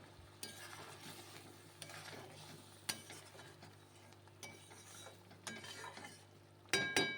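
Okra gravy made with cashew, poppy seed and nuts simmers quietly in a pan, giving a soft, steady bubbling sizzle broken by occasional clinks of a utensil against the pan, with no talk.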